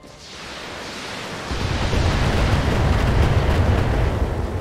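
AC-20 autocannon fire and explosions from the game Battletech, a dense, roaring wash of blast noise that swells after a moment into a sustained heavy rumble, loud and continuous without talk.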